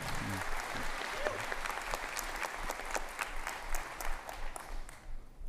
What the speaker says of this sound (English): let's all give a round of applause to Jayden